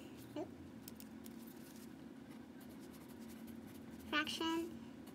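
Pen handwriting on paper while writing out fraction word problems for a math lesson: faint, intermittent scratchy strokes over a steady low room hum, with a slightly louder burst of writing near the end.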